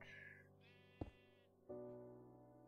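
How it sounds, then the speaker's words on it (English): Sheep bleating in the Minecraft video game, several separate wavering bleats in sequence, moderately loud and alone with no talk over them. "I hear sheep."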